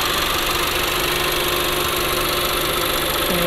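A Volkswagen Passat B7 with the 1.8 TSI engine idles steadily with the bonnet open, a continuous even hum with a faint ticking texture, close and unbroken, no voices.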